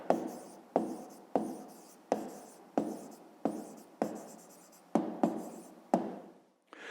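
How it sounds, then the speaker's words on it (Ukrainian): A pen writes out the answer to a fifth-grade maths exercise, a close series of about ten distinct scratchy strokes in a steady rhythm, each starting sharply and fading, with no talk. "Пишемо відповідь."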